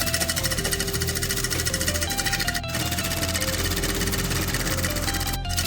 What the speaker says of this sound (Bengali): এবার এইভাবে সোজা সেলাই করে নেব।